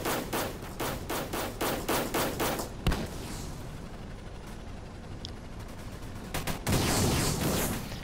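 Rapid bursts of gunfire in the Roblox tank game Armored Patrol, a steady rattling volley for the first three seconds, then a quieter stretch of scattered distant shots and rumble before another loud burst near the end.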